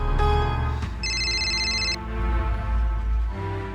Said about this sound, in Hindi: बाबूजी के फोन हो। फोन उठा ला और सुना, स्पीकर ऑन रख के बात करा।